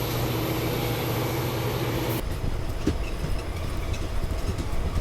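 A train on the Hubballi to Kushtagi line during its first commercial run: a loud, steady rolling rumble that suddenly drops to a softer clattering roar partway through.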